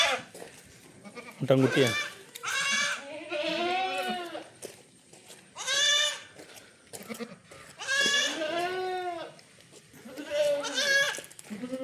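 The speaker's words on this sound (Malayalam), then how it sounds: "ഒരമ്മയാടും അതിൻ്റെ 1 മാസം പ്രായമുള്ള ഒരു മുട്ടൻകുട്ടിയും" A mother goat and her one-month-old male kid bleat repeatedly at a livestock sale, loud wavering calls coming in bursts a second or two apart with short quiet gaps between them.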